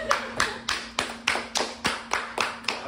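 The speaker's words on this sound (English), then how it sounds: "let's give a hand of applause." Hands clap in a steady, even rhythm, about ten sharp claps in three seconds. The claps are close and distinct, with a faint hum beneath them.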